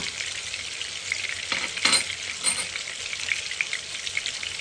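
Tomato paste sizzles and crackles steadily in a hot pan for a sauce, with a few louder scrapes of stirring partway through, close and continuous with no talk.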